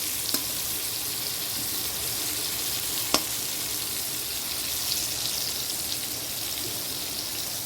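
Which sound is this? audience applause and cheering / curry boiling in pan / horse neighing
curry boiling in pan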